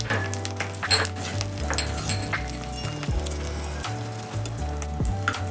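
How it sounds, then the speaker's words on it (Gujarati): Curry leaves and cashews crackle and sizzle steadily in hot oil, close and loud, with a few light clinks of a spoon against the pan. "મીઠા લીમડાના પાન કડક શેકી લેવા છે"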